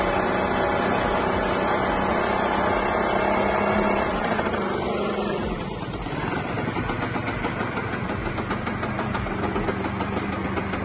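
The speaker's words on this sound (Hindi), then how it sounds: "इस बंदे ने स्कूटर से ही कंस्ट्रक्शन लिफ्ट क्रेन बना दी है" A scooter engine rigged up as a construction lift crane runs steadily with a loud, close mid-range hum, dipping briefly in load partway through before settling back into an even drone.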